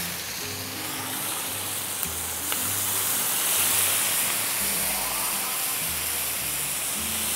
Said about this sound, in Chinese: 好，我们可以把汤冲进来